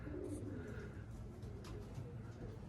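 Young tumbler pigeon, a show-bird chick being trained, moving about at close range with soft cooing and faint wing or foot rustles over a steady low background hum, with a voice speaking in the background.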